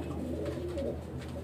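White pigeon chicks from a breeding pair make soft, low cooing and murmuring sounds, close by and steady, with no talk over them.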